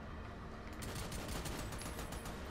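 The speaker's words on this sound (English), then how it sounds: "Hey, we're both shooting at the same guy." Rapid gunfire from the video game Army of Two crackles in a dense, continuous burst of automatic shots, fairly faint and steady throughout with no talk over it.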